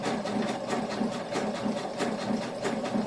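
A sewing machine stitches a seam with a rapid, even mechanical chatter that runs close and steady from start to finish, with no talking.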